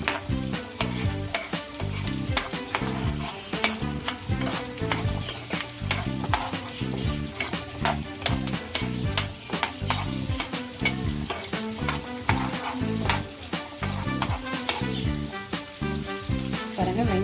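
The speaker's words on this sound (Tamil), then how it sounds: "பாருங்கள், வெங்காயம் நல்லா வதங்கிடுச்சு." Small onions frying in a pan for a chicken curry, a steady loud sizzle broken by frequent scraping stirs, with a tonal musical backdrop running throughout.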